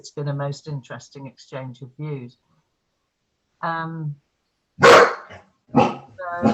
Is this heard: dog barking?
yes